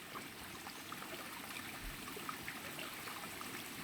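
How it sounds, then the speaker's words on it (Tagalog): A strong mountain river flows continuously, a broad even wash of rushing water with no pauses, fairly close and uniform throughout. "Kalakas na tubig, continuous yan guys, hindi yan hihinto."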